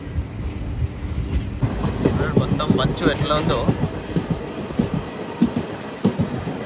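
Narsapur Express train running again after a stop, heading toward Veeravasaram station on a misty morning, with a steady close rumble and rhythmic clickety-clack of wheels under continuous talk.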